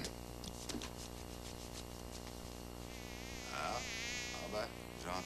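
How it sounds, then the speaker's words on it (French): A housefly buzzes in a quiet room, a faint wavering drone that drifts nearer and farther, swelling louder in the second half with short irregular bursts. "j'entends une mouche voler"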